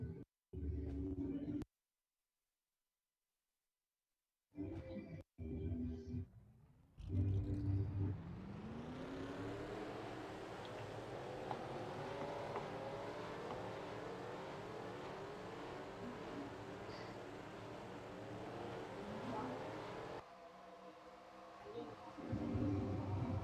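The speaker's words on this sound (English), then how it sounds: "Drivers, start your engines." Race car engines firing up in a NASCAR-style stock car racing video game at Kansas, after short bursts of broadcast-style talk, then a loud, steady, layered engine drone with rising revs that holds and continues under a drop in level.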